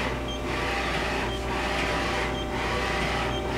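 Mori Seiki horizontal machining center with a 400 millimeter pallet and full B axis running, a steady whirring machine drone with slow, periodic swells of hiss, close and continuous, with no talk.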